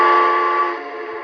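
A Lionel TMCC K4 model steam locomotive sounds a steady, fairly loud electronic whistle chord, held as one continuous tone that fades slightly toward the end.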